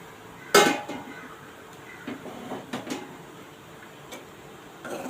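A lid comes off a cooking pan of potato vegetable on a low gas flame, giving one sharp metallic clank followed by faint light taps and clicks.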